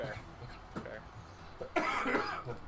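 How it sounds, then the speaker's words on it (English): A person coughs and clears their throat during a tabletop role-playing game session. Brief coughs come first, then a louder, rougher burst near the end, with talking around them. "Because I cough up a little bit of blood."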